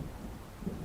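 Thunder from an approaching storm in Alan Wake, a low distant rumble with faint rain hiss, brief and quiet.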